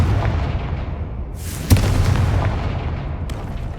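A spell blast detonates in the Hogwarts Legacy video game, a sharp, loud explosive crack midway through followed by a rumbling low decay and a fainter secondary burst near the end, over a continuous deep ambient rumble.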